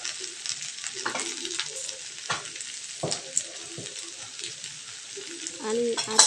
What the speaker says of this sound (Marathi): आपण ही भांडी चांगली एकजीव करून घेऊया म्हणजे परतून घेऊ